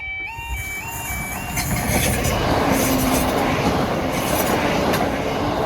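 A train rumbles past close by, wheels clattering over the rails on the Harrogate and Knaresborough line, while a level-crossing alarm sounds repeated two-tone warnings at the start.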